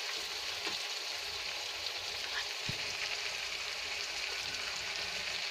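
Masala sizzling and frying steadily in a hot pan for an aloo matar gobhi sabzi, a continuous close crackle with a brief soft stir sound partway through, no talking.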